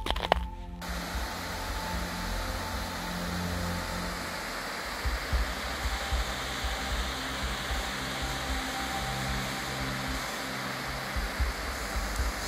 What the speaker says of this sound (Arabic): المويه من تحت الثلوج والبحيره بالكامل متجمده